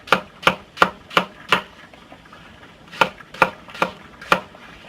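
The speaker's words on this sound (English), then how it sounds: "you want to chop them up" Peeled, cored fruit being chopped for baby food, sharp knife thuds on a cutting board in two quick rhythmic bursts of about five strokes each, close and crisp, with a short pause between and no talk.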